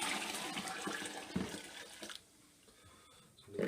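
Water pouring into a home-brewing mash, a soft continuous splashing rush that cuts off partway, leaving faint quiet before a brief return at the end.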